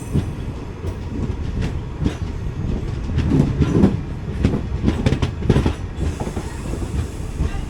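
A diesel express train rolls into Sivakasi station, with a steady low rumble and clickety-clack of the wheels over the rails heard from aboard, continuous and fairly loud throughout.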